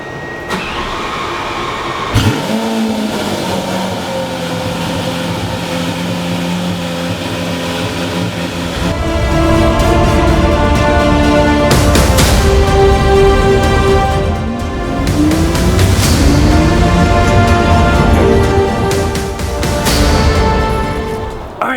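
A Lamborghini Aventador engine starts with a sharp bark near the 2-second mark and settles into a loud, rough idle, then roars through repeated hard revs that swell and fall, close up and without talk.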